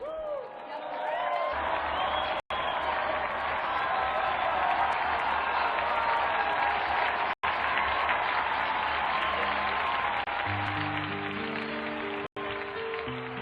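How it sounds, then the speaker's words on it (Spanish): A congregation applauds for Saints Marcus and Marcellinus on their feast day, a broad even wash of clapping from a large crowd, continuous and moderately loud, with a few brief cut-outs and some tonal sound near the end. "brindemos nuestro aplauso y todo nuestro afecto a San Marcos y Marcelino en el día de su fiesta"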